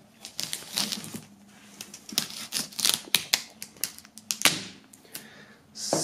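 Vega V Box being pulled out of its packaging: close crinkling, rustling and sharp snaps of cardboard and plastic in irregular bursts, with no speech.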